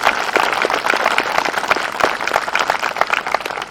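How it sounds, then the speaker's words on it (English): An audience at a middle school summer band camp concert claps and applauds steadily, a dense, continuous patter of many hands throughout. "So let's give them another round of applause."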